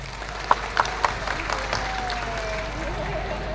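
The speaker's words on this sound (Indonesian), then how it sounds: "di sini yang sudah menikah boleh tepuk tangan?" Audience at a comedian's stand-up set during a company anniversary event at Jungle Land claps in a light, scattered patter, a few sharper claps standing out over a low crowd murmur.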